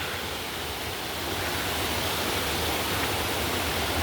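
A steady broadband rush of flowing water, like a stream running over rocks, constant and fairly close with no voices.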